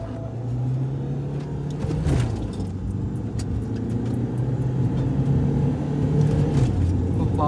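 A Toyota Fortuner and a Mahindra XUV500 accelerate hard in a drag race, engine drone rising in pitch and dropping at gear changes, steady and fairly close, with voices talking over it.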